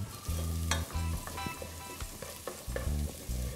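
Chopped battuto of aromatics frying in a thread of olive oil for pasta e fagioli, a steady close sizzle broken by low clattering stirs and scrapes of a utensil in the pan.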